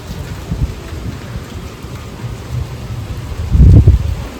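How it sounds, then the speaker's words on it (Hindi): Rain falls steadily on potted plants at home in a soft, continuous patter. A few louder thuds of heavier drops or distant thunder rise near the end, and no voices are heard. "प्लांट्स को ऐसे बारिश का पानी मिल रहा है"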